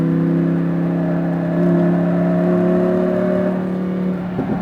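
Lamborghini Huracan V10 engine pulling hard on a racetrack, a loud steady roar with strong harmonic drone that holds and swells slightly as it accelerates, close and continuous with no talk.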